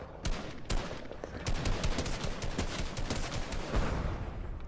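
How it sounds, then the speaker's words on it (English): Rapid bursts of gunfire from a video game, aimed at shooting a flying target out of the air, crackle loud and dense throughout, with sharp repeated shots layered over a steady background din. "let's see if I can shoot you out of the air."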